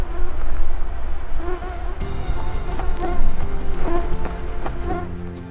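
Insects buzz steadily in the woods near Ship Island Lake, a continuous droning hum with scattered sharper whines rising and falling throughout, fairly loud and close with no talking.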